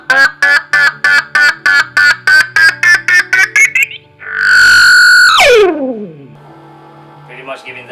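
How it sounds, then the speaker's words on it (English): Electric guitar through an MXR Carbon Copy analog delay pedal, heard as rapid repeated plucked notes followed by a loud warbling, pitch-bending delay swell that dives downward and fades. The sound is close and played alone. "You can do some crazy stuff with the carbon copies"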